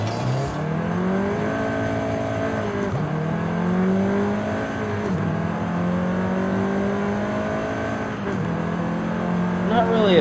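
A 2014 Volkswagen Golf R four-cylinder engine pulls hard on the street, its note climbing through gears with brief dips at each shift. It is loud and close, and steady throughout.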